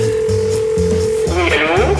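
A new home telephone is dialed, with a steady dial tone followed by a quick series of short button tones, then a rising ring signal, all fairly loud and near.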